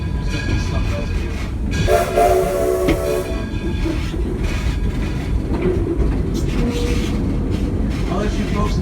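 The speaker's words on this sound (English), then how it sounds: "enjoy the sound of that locomotive up there, the puffing, the chugging, the whistle, the bell" A steam locomotive at Greenfield Village rumbles, puffs and clatters close by, a horn-like whistle sounds briefly early on, and a voice talks at times over the rolling noise.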